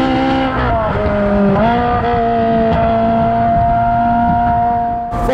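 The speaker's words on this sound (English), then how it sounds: "Just listen to that motor." Ferrari 458 Spider with a naturally aspirated V8 revving hard, a loud, close, sustained engine howl whose pitch climbs in steps through gear changes, then holds high before cutting off at the end.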